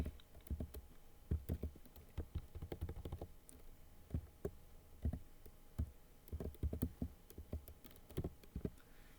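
Fingers type on a computer keyboard while data is entered into a procurement spreadsheet, giving close, irregular bursts of clicky keystrokes with short pauses between them.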